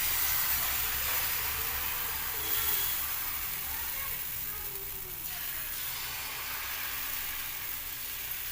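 Thin sorghum (jowar) flour batter for dhirde, a dosa-like pancake, sizzles on an oiled pan with a steady, close hiss that runs without a break.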